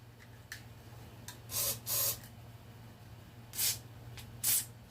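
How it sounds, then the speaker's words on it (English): Short hissing bursts of a WD-40 aerosol spray, four or five quick blasts separated by pauses, close by over a steady low hum, during a Cub Cadet 102 engine strip-down for cleaning. "get you some WD-40, spray it all in there."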